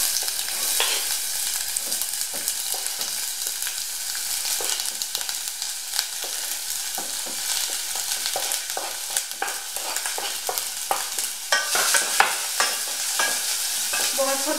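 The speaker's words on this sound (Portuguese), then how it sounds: "Vou refogar a cebola um pouco até começar a ficar transparente." Chopped onion sautés in olive oil with a constant crackling sizzle, broken by frequent stirring scrapes and taps of a spoon against the pan, close and fairly loud throughout.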